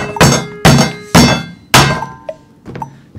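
A hammer drives a long nail into a puncture-proof shoe, with four heavy, evenly spaced thuds followed by a couple of lighter taps, loud and close.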